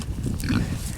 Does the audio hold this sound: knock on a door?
no